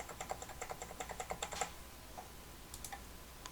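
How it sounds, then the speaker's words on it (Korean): Up arrow key on a computer keyboard tapped repeatedly in a quick, even rhythm, about a dozen close light clicks, then a pause and a couple of isolated presses, with no talking. "방향키 위"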